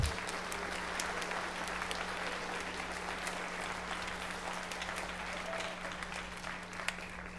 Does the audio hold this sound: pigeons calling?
no